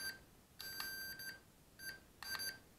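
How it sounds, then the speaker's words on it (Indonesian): Short electronic beeps from a Mould King Super F drone remote controller sound in quick pairs and triples, crisp and close against a quiet background; two beeps mark speed setting 2. "untuk tombolnya speed 2 bunyi beep 2 kali"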